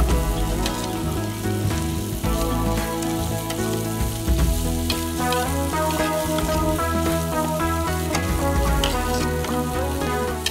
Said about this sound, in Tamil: அந்த பக்கம் பார்த்தீங்கன்னா நம்ம போட்ட இஞ்சி பூண்டு பேஸ்ட் அது வந்து கொஞ்சம் குக் ஆகிறதுக்காக விட்டுருக்கோம்